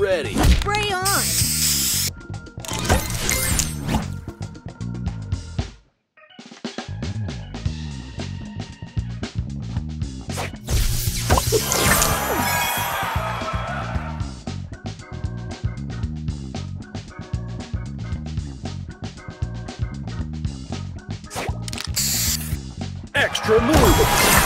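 The booster spray effect in the mobile puzzle game Match Masters bursts out in loud hissing sprays over busy game music, cheerful chimes and an announcer voice calling out in-game prompts.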